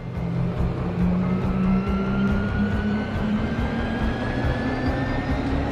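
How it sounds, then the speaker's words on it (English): The harvester spacecraft in the Genesis Alpha One space game takes off with a loud, continuous roaring engine and a slowly rising whine that hold steady, like a jet pulling away. "I just really wanted to show you how cool the harvester is when it takes off."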